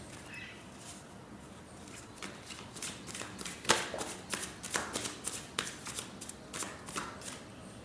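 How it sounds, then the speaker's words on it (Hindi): Tarot cards being shuffled by hand at close range, starting soft, then a sharp snap followed by a quick run of crisp riffling flutters and light taps, with no speech. "हम कार्ड्स को शफल करते हैं।"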